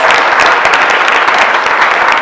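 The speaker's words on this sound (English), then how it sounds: "Let's give a round of applause." Audience applause at a virtual MFA open house, dense continuous clapping from many hands, loud and sustained with no talking.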